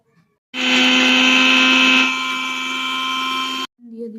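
A mixer grinder whirs loudly and steadily for about three seconds as it grinds garlic, chopped ginger and green chillies into paste, easing slightly in pitch midway before stopping abruptly.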